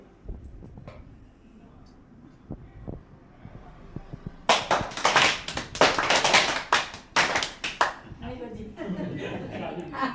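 A group of people claps together in a room, bursts of sharp, loud hand claps starting midway and coming in uneven waves, with talk before and between them, at a newlywed couples' family gathering in Batala, Punjab.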